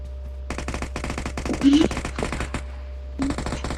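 Rapid automatic gunfire from the mobile battle royale game PUBG Mobile rattles in quick, close bursts with short gaps, over a low steady hum, and a voice speaks briefly.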